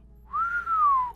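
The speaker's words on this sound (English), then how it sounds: "Cody whistled." A single person whistles one smooth, rising-then-falling note lasting under a second, clear and close against a quiet low hum.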